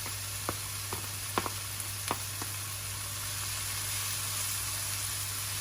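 Bacon frying in a pan over low gas heat gives a soft, steady sizzle, with a few faint clicks and taps near the start and no talking.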